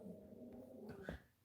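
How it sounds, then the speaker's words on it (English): A dog whimpers softly in a short, faint whine with a little breathy sound, close by in a quiet room. "I'm talking about my dog."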